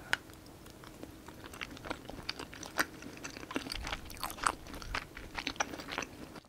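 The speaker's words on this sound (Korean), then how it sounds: "이제 진짜 주인공인 떡볶이를 한번 먹어보겠습니다" Someone eating tteokbokki, Busan-style spicy Korean rice cakes from a Igane meal kit, with fish cake broth: close, wet chewing with soft crunches and small bites repeating irregularly.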